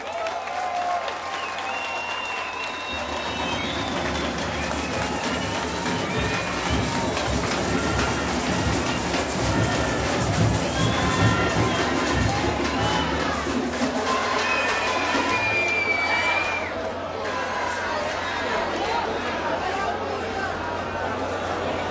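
A carnival crowd at a samba school's queen coronation claps and cheers in sustained, dense applause, loud and close, with scattered whistles over a low rumble and voices running beneath it.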